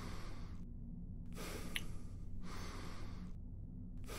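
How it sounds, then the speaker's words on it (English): A character's heavy, rhythmic breathing from low stamina in the game Cataclysm DDA: alternating loud inhales and exhales in a steady cycle, close and breathy, over a constant low background hum. "That breathing noise is me being out of stamina."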